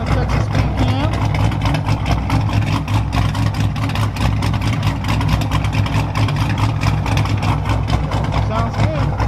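A tuned 5.7-litre car engine runs loud and steady at close range, with a deep, continuous low rumble and a choppy cam idle lope throughout, while people talk over it.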